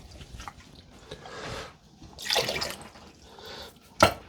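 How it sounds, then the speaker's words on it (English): Water poured from a can into a pot of homemade chili with diced tomatoes, green peppers and onions, heard as a few soft splashing, trickling bursts with a sharp drip near the end. "so we're going to put a little water in there."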